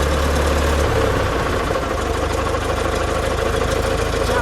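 With the hood lifted off, a 1909 Delage Voiturette's engine runs at a loud, steady idle, its close, continuous mechanical rumble holding even throughout.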